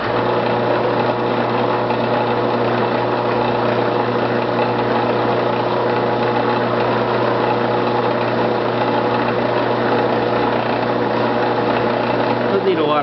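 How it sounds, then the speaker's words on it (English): A metal lathe turns at 50 RPM with cutting oil while a tool crimps a cup, giving a loud, steady motor hum and whirr with no break throughout. "I've got the lathe turning at 50 RPM. So let's give it a crimp"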